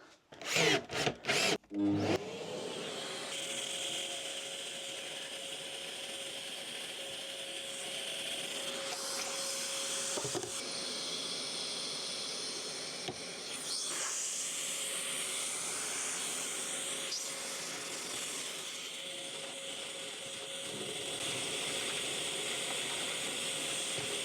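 A drill spins steadily, boring a cabinet door hinge hole with a hinge jig, alongside the constant whirring hum of a dust extractor vacuum, after a few sharp clicks at the start. No speech.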